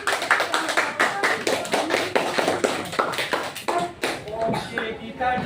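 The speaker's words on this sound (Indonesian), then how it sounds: "Tepuk tangan untuk kita semuanya," Classroom students clapping hands together, a lively burst of irregular claps close by that fades after several seconds, with voices mixed in.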